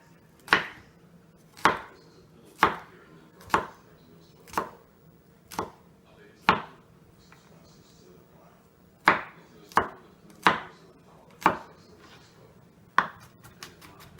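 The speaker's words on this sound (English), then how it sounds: "now that I pulled the skin off of them, I'm going to mince them." A knife minces peeled vegetables on a cutting board in sharp, close chops at a steady pace, about a dozen distinct strikes. A short pause falls partway through, followed by a quick flurry of faster taps at the end.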